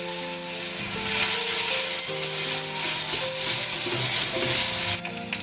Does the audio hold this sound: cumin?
yes